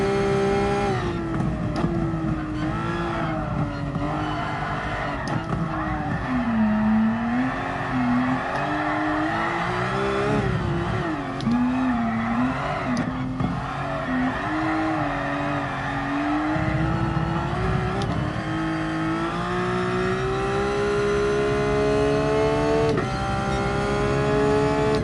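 Drift car engine in GT Sport at the Red Bull Ring, revving continuously and loudly with rising and falling pitch, tire squeal mixed in, no talking.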